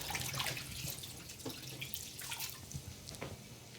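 Running water from a faucet splashes steadily over freshly boiled homemade gluten-free noodles in a sink, a soft continuous hiss with small drips and spatters.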